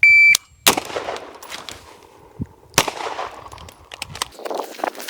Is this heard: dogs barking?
no